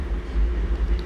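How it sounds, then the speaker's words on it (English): A train passing outside a room, heard as a low continuous rumble with fluctuating intensity and no talking, mixed with the steady hum of a nearby fan. "Here comes the train."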